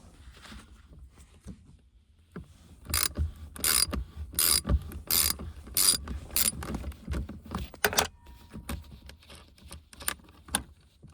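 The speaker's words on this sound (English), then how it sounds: "I have a 1/2 inch socket on that side, and then I got the wrench on the side" Socket wrench with a 1/2 inch socket ratcheting on a shifter bolt of a first-generation Toyota Tacoma, giving bursts of sharp rapid clicks after a quiet start, close and fairly loud.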